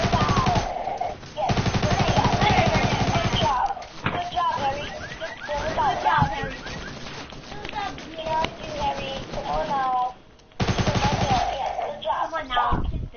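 Fortnite gunfire crackles in rapid automatic bursts and single shots, loud and close, interleaved with two people talking excitedly over the game audio.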